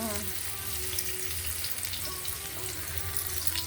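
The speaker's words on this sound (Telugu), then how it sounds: "ఫస్ట్ వెల్లుల్లిపాయలు వేస్తాను. వెల్లుల్లిపాయలు కొంచెం బాగా వేగిన తర్వాత" Garlic sizzling in hot oil in a pan while cooking a chana dal masala curry, a steady close crackle that continues evenly without a break.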